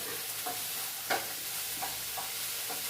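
A spoon stirs jackfruit seeds frying in coconut oil in a pan. Soft, faint scrapes come at a loose rhythm over a light, steady sizzle, with no talk.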